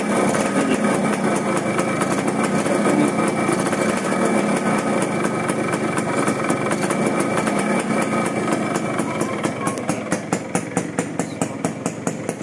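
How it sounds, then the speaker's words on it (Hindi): A Suzuki Max 100 two-stroke motorcycle engine runs at a close, continuous buzzing idle, with its rapid firing pulses becoming more distinct toward the end. "अब इसमें आपको चालू करके दिखाता हूँ बाइक"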